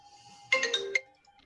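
A mobile phone ringtone plays a brief, bright, chiming melodic burst, cut off after about half a second, in an otherwise quiet room.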